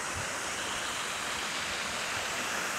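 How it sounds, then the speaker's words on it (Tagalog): A brook flowing beside a campsite: a constant, even rush of water, close and steady, with no voices or other sounds. "Do you hear the brook?"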